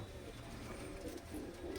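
Old-generation high-flyer pigeons kept at a home loft coo faintly in low, steady murmurs under soft background noise.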